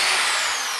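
A small drill bores a pilot hole while building a vertical-axis wind turbine, giving a loud, steady, high-pitched whine that holds for under a second and eases off slightly at the end.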